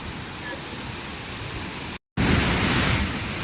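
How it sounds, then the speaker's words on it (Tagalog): Taytay Falls after Typhoon Aghon gives a steady, loud broadband rush of falling water, continuous apart from a brief cut near the middle, with no talk. "Ito nga pala yung pagbabago ng Taytay Falls."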